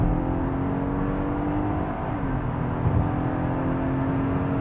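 Third-generation Toyota Avalon engine revving hard under acceleration from inside the cabin, a loud, smooth, steady drone with a rising whine that holds through the run, muffled and refined rather than harsh.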